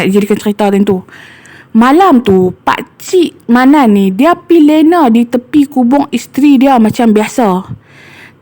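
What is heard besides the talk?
No distinct noise like a dog, phone or traffic.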